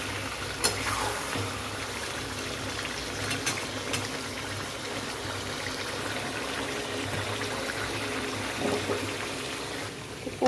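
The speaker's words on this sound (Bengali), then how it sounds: "পেঁয়াজটা ঠিকঠাক ভাজা হয়ে গেছে" Onions frying in a pan while chicken biryani is being made, a steady low sizzle with occasional scrapes and clicks running throughout, fairly quiet with no voices.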